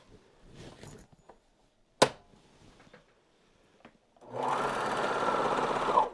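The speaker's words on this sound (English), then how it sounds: "Gently guide the serger around the curve." A serger runs steadily while stitching a pocket seam on patchwork sweatpants, a loud continuous whir over the last couple of seconds after scattered handling clicks and a sharp tap.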